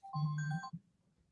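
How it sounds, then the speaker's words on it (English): Telephone ringtone chiming during a live stock market broadcast, one short, bright, close melodic ring with a low tonal hum beneath, then silence. "I hear the phone's going."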